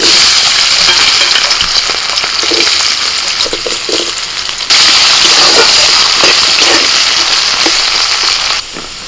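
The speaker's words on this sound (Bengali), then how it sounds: "তেলের মধ্যে ফোড়নে দিচ্ছি শুকনো লঙ্কা তেজপাতা আর দিচ্ছি পাঁচ ফোড়ন এবার দিচ্ছি আলু" Potatoes fry in oil with dried red chilli, bay leaf and panch phoron, making a loud, dense, crackling sizzle throughout with scattered pops and stirring scrapes, and a sudden shift in level near the middle and end.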